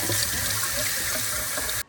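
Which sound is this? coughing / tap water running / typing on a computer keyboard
tap water running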